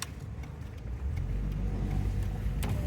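A car pulling away during a driving lesson in Dnipro: a low engine rumble and road noise build steadily from inside the cabin, with light clicks and no voices.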